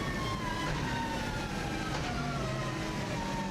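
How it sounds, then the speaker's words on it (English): Subaru Impreza rally car with a turbo engine revving high during a fast lap, a continuous loud engine whine with rising and falling pitch sweeps, heard from inside the car. "As you can hear from this car, it does sound amazing, and it's also revving quite a lot higher than the previous car."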